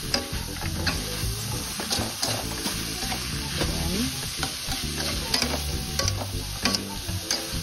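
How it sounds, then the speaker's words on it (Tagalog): Vegetables for pancit canton are stir-fried in a pan, a close, busy sizzle with rapid, repeated scraping and clanking strokes of the spatula throughout. "Halo-halo lang. Gisa-gisa lang."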